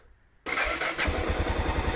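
A 1999 Honda Vigor 650 motorcycle engine starts abruptly after a moment of near quiet, catching at once and settling into a close, even, rhythmic idle with no voices.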